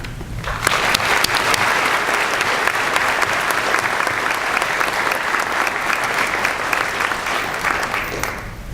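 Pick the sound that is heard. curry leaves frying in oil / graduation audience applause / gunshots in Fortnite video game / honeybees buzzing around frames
graduation audience applause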